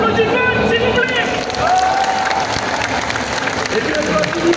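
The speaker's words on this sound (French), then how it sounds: "On applaudit Vote, s'il vous plaît" Audience at Japan Expo Paris applauding and cheering, a dense sustained wash of clapping from a large crowd with shouts and babble mixed in.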